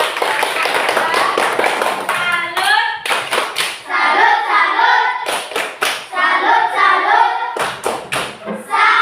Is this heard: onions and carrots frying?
no